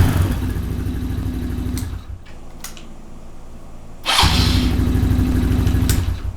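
A motorcycle engine, just fitted with a tuned carburetor and not yet warmed up, idles nearby with a steady throbbing putter that cuts out briefly mid-way and then resumes just as loud.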